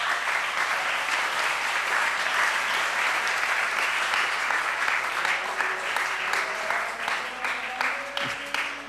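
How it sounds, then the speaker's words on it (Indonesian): A large audience at an Indonesian political talk show breaks into dense, steady applause that fills the whole stretch, loud and sustained, easing slightly near the end. "Tepuk tangan buat kita semua."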